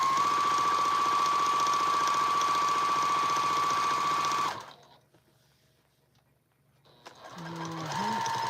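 A sewing machine set up for free motion quilting runs loud and steady with a buzzing hum for about four and a half seconds, stops abruptly, then starts up again near the end.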